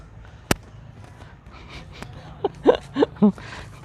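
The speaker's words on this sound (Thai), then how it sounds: "มีเสียง ยิงปืนไล่นกด้วยเพราะก็จะทำนากันอีกรอบหนึ่งแล้ว" A single sharp gunshot, fired to scare birds from rice fields, cracks in the distance, followed by quiet background and a few short vocal sounds close by.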